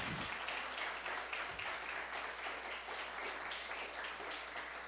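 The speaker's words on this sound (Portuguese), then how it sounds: "Você pode aplaudir ao Senhor" A church congregation claps in praise during a Portuguese-language service, a faint, distant, even patter of applause with no voices over it.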